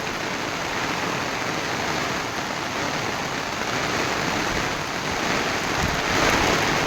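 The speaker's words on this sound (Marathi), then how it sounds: "खूप जास्त पाऊस पडत आहे इकडं." A heavy downpour in Mahabaleshwar roars steadily and close, swelling slightly louder toward the end, with no voices.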